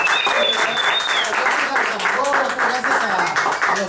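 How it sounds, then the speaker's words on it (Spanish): A studio audience on a television show applauds the production crew, steady dense clapping throughout with a voice talking and calling out over it. "aplausos, muchachos"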